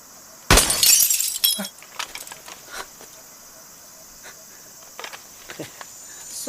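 A gunshot shatters a glass bottle with a loud crack and crash, followed by tinkling shards falling, then quiet crickets and faint scattered sounds.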